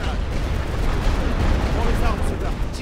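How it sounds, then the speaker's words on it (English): A rolling artillery barrage on the Western Front of the Great War keeps up a dense, continuous rumble of blasts and booms, loud and unbroken throughout, with speech faintly mixed in. "That survived a lot of artillery."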